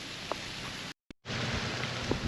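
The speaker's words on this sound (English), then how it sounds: "don't know how well the rain's going to show up or if you can hear it" Rain falling in a canyon, a steady broadband hiss with faint scattered drops, briefly cutting out before resuming at the same level.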